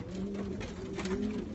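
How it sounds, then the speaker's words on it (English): A racing pigeon, a yearling cock bird, coos in low, rolling phrases, two drawn-out cooing calls close by and steady across the short stretch. "first place national ace pigeon of all Minnesota right now"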